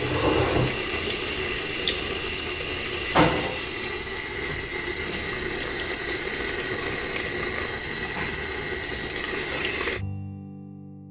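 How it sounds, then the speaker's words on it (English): Tap water runs steadily into a kitchen sink while beetroot is washed, a continuous splashing hiss lasting about ten seconds before cutting off abruptly, with no voices. "the next thing to do is actually to wash our beetroot"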